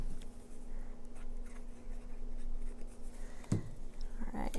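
Paper is quietly cut and trimmed for a handmade 6x6 inch mini album, giving soft scratchy strokes up close, followed by a short sharper crackle near the end.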